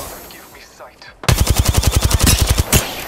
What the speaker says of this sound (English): Shooting them from the field.